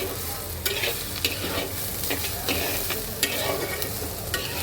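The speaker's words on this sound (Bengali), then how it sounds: "এইবার আমি পেঁয়াজটাকে আর কাঁচামরিচটাকে একটু হালকা ভেজে নেব। এর মধ্যে দিয়ে দেব চিংড়ি মাছগুলি।" Onion, green chili and prawns fry in a pan, a continuous close sizzle broken by repeated scraping stirs of a spatula at an uneven rhythm, with no talking.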